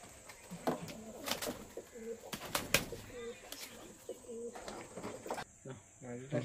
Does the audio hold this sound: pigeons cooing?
yes